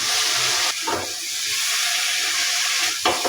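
Eggplant pieces going into spice paste frying in a pan, giving a steady close sizzle and hiss with brief stirring scrapes, no talking.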